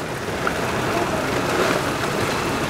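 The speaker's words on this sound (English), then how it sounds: "Blue, I've got hail inside the rain here. It's hailing as well" Heavy rain mixed with hail during Storm Ciara in Swinton, heard as a dense, steady, close wash of noise against a window, loud and continuous with no distinct gaps.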